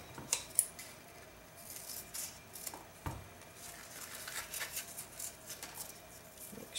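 Scissors trim the ribbon tails of a glitter cheer bow: a few quiet, crisp snips spaced apart, close to the microphone in a quiet room.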